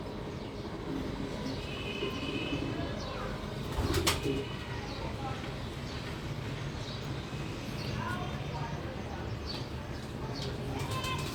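Pigeons in a home loft, soft cooing calls scattered over a steady background hum, with a brief burst of wing flapping near the middle.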